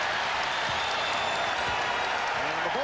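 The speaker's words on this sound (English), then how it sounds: "And the Bulls now hearing it from the crowd. They're on their feet at the United Center." An arena crowd at the United Center during a 1996 NBA Finals game between Seattle and Chicago roars and applauds steadily, a dense wash of cheering with a commentator's voice over it.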